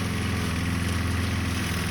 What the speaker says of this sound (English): out conquering the wild with a push mower, mowing himself a bike path.